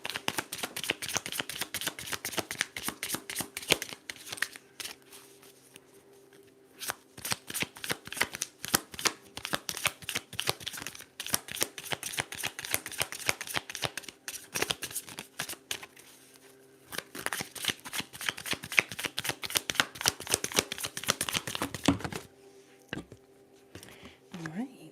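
Tarot cards are shuffled over and over in rapid riffling bursts, crisp and close, with short pauses between runs and a soft-spoken voice underneath.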